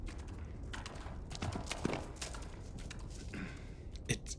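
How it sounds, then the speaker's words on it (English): Horse-like clip-clop in the Silent Hill 2 Remake video game, a series of hollow knocking hoof-like taps amid dark ambient noise, with a sharper knock near the end. "It sounds like a horse."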